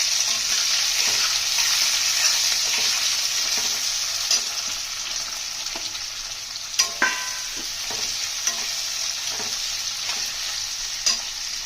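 Onions sizzle in hot oil in a new kadai, a constant bright hiss close up with occasional scraping taps from stirring, no voices.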